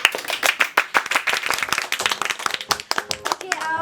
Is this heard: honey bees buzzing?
no